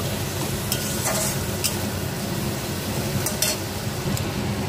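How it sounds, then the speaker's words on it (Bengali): Spices, including chilli powder, are stir-fried in a pan for a spicy prawn masala, giving a steady close sizzle broken by brief scraping clinks of a spatula against the pan. "মশলাগুলো দিয়ে আবার ভালো করে এগুলো কষিয়ে নেব।"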